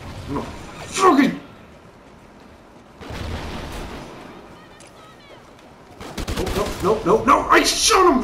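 Gunfire in the online game Call of Duty Ghosts, bursts of shots at the start and again at the end around a quieter middle, with someone talking excitedly over the game sounds.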